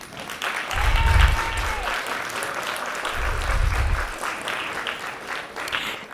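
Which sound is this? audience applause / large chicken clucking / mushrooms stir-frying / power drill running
audience applause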